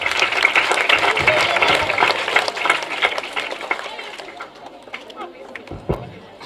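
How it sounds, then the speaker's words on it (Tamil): Audience of government school students and teachers clapping in a hall after a motivational talk, dense scattered applause with chatter that gradually thins out, a few late claps near the end. "சோ உங்களுக்கே நீங்க ஒரு கைத்தட்டல் கொடுத்துக்கலாம்."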